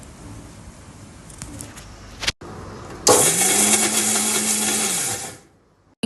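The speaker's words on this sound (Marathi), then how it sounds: "थंड झाल्यानंतर ते मिक्सरला काढायचं मी दाखवते तुम्हाला" A mixer grinder blends cooled kheer in a loud, whirring burst lasting about two and a half seconds before stopping, after a stretch of quieter kitchen clatter.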